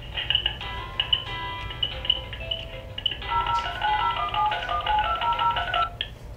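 A telephone call rings out unanswered as a repeating electronic ringing pattern of bright melodic tones, moderately loud and steady with small beeping phrases over faint background noise.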